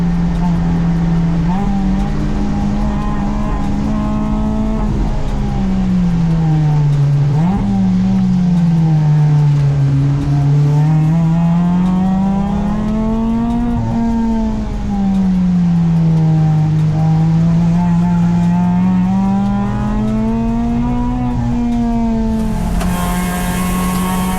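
Race car engine at an endurance race at Clark Speedway, held loud and steady for the whole stretch, its pitch rising and falling as the car accelerates and slows through corners, heard from on board.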